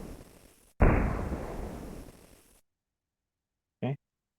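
A Beretta 92 FS WOG replica pistol fires once up close, a sharp loud report that rings out and decays over about two seconds, followed by a brief metallic click after a silence.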